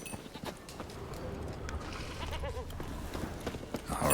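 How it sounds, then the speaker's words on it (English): A goat in The Witcher 3 bleats a few times at mid distance over ambient game sound and footsteps, with the sound growing louder toward the end. "Here goat."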